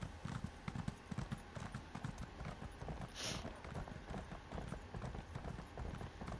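Steady clip-clop of horse hooves from a ridden horse in Elder Scrolls Online, a rapid even rhythm that stays loud and close throughout with no one talking.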